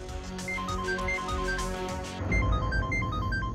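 A phone ringtone in a Hindi TV drama scene, a bright repeating melodic ring that plays continuously over a soft musical background, with a shift in the backing partway through and no voices.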